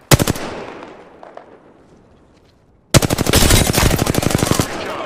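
Automatic gunfire in Apex Legends, a rapid burst of close shots that fades into a quieter tail, then a second longer, louder rattling burst; no speech.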